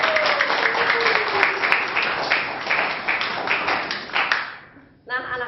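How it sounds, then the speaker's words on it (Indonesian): A class of students claps for a group that has just presented on carbohydrates, dense steady applause filling most of the moment before fading out, a voice starting to speak at the end. "Beri tepuk tangan untuk kelompok 3."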